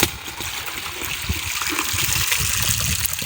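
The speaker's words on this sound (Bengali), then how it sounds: "আমি আবার একবার ধুয়ে নিচ্ছি" Cloth being rinsed by hand in a basin of water, a steady close sloshing and trickling with small splashes throughout, no voices.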